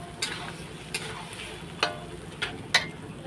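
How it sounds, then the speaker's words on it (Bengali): Potatoes stirred and fried in a pan while cooking chicken ghugni: a soft sizzle runs under five or six sharp scraping clicks of a spatula against the pan, spaced irregularly and fairly close. "এইবার নেড়ে চেড়ে নেব, কিছুক্ষণ কষাবো।"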